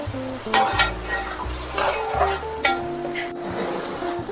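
Onions, tomato and green chillies frying in a pan, with a soft sizzle under repeated scraping and clinking of a spoon as the mixture is stirred, loud and close.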